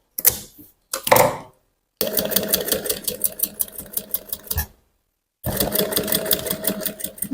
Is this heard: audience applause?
no